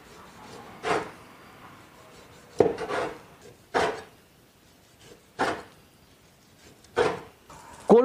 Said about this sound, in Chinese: 这个二刀肉稍有冷却后切成片，厚度大约就是2毫米